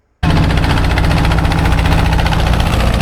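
A trawler boat engine in Rangamati starts abruptly and chugs loudly and steadily, a constant close diesel drone with rhythmic vibration.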